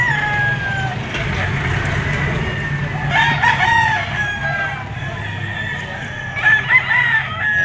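Pumpkin Hatch gamefowl roosters at a Lipa auction market crow repeatedly, with several long cock-a-doodle-doo calls overlapping near and farther off over a steady low crowd murmur.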